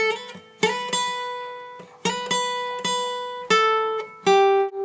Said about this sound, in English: And then if you want to, you can do a slide up.